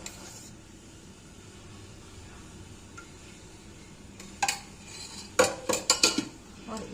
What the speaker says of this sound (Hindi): और इतना ही आटा इसमें मैं भून लूँगी।